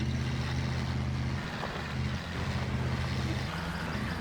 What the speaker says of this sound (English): I feel like I've heard the sound before, but I'm not sure what kind of engine is in it.